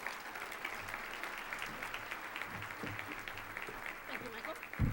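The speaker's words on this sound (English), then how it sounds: "Please give them a round of applause." Conference audience applauding two legislative co-chairs at a Latina-focused event, a fairly faint, steady patter of many hands with a low hum and scattered voices beneath.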